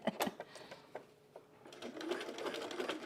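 Sewing machine with a buttonhole foot stitching a Loftus Bralette and catching a little, in short uneven bursts that stop and start, then run steadier and fuller toward the end.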